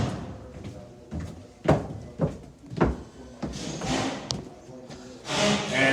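Back doors in a building handled in sequence, several sharp thumps and latch clicks, then rattling and a swishing sweep, moderately close and fairly quiet.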